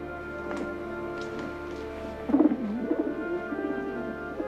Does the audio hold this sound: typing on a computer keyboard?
no